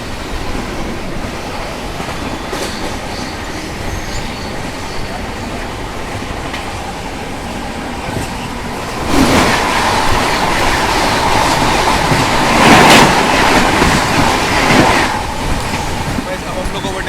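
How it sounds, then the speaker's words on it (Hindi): The New Delhi–Kathgodam Shatabdi Express rushes past close by, a loud broadband roar that swells midway with rhythmic clatter bursts and faint wheel squeal, heard from aboard another train. "सामने से आ रही है ट्रेन नंबर 12040 नई दिल्ली काठगोदाम शताब्दी एक्सप्रेस"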